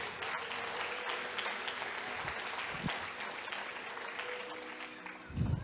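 A church congregation applauding during a sermon, with sustained, dense clapping that fills the whole stretch at an even level and a slight low rumble near the end.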